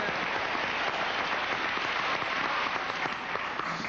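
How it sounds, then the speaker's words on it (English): A 1981 television game show studio audience gives a round of applause, steady hissing clapping from many hands without a break for a few seconds. "Let's have a round of applause for Bert Parks."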